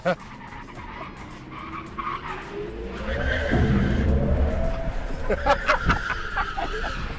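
A 2025 Hyundai IONIQ 5 N accelerating with its synthetic engine sound, a rising droning tone that swells and climbs in pitch, close and steady, with people talking over it.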